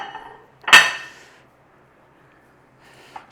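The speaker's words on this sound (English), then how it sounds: "I'm going to use the old pan lid again, and then we'll upturn it onto a plate." Metal pan and lid clatter sharply once as a spaghetti frittata is flipped onto a plate, a single loud clank with ringing tail, then quiet and a faint small knock near the end.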